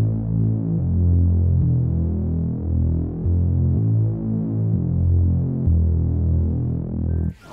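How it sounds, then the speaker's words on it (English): A Reece bass patch built in the Vital software synthesizer, with detuned oscillators and the filter resonance turned down, plays sustained, throbbing low notes in a steady rhythmic pattern. It sounds alone and cuts off abruptly at the end. "we've got a nice start to our reece bass"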